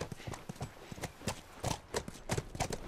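Horse hooves clip-clop in a steady, fairly close rhythm of sharp repeated strikes in The Last of Us video game, with no talk over them.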